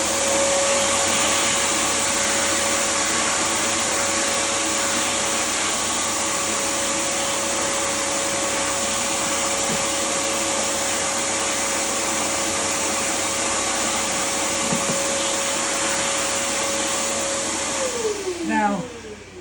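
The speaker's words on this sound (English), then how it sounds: "Okay, I'm going to do a quick vac." A vacuum cleaner runs with a loud, steady whining drone for most of the time, then its motor winds down with a falling pitch near the end, with no talk.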